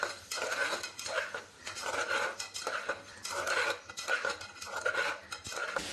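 Rajma being stirred into fried masala in a pot, with repeated rhythmic scraping and clinking of a spoon against the metal pot, close and steady throughout.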